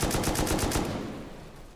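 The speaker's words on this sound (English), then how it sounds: "Why do I get the feeling that there's more shotgun traps up above?" Shotgun traps fire in the Rust video game in a fast, evenly spaced burst of about seven loud blasts over less than a second, then a decaying echo.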